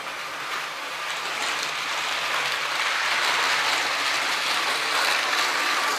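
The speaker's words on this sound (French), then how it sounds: "Il y a TGV Lima, 6 éléments, 2 motrices avec 2 décodeurs." A Lima model TGV train set, six cars with two powered motor units, runs steadily on its track with a continuous mechanical whirr and rattle of gears and wheels, fairly close and unbroken, with no talk.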